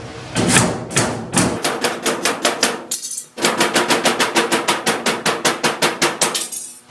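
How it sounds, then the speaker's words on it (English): A power screwdriver drill backs screws out of sheet-metal furnace ductwork on a four-way transition plenum, giving loud, rapid hammering rattles in several bursts with brief pauses between them and no talking. "What you can do is you can take your drive right here, run a screwdriver in, just kind of get it started."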